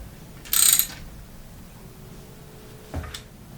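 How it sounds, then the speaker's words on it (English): Tightening the top cap on a bicycle's threadless headset gives a short ratcheting, mechanical click burst, then a second fainter click about two seconds later, close by in a quiet room. "verify that the handlebars are parallel to the front wheel and tighten your cap up"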